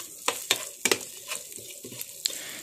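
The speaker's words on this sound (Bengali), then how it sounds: "এটা দিয়ে ভালো করে একটু নেড়েচেড়ে ভেজে নিচ্ছি" Salt, turmeric and whole cumin fry in a pan while a spatula stirs them, giving a soft steady sizzle broken by sharp scraping clicks at an uneven rhythm, close and alone.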